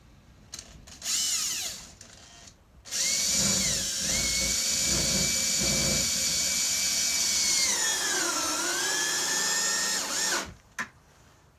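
A power drill set to maximum torque runs slowly, driving a fastener through an L-foot solar rail mount into a roof joist: a brief start, then a sustained whining motor that dips in pitch under load before stopping.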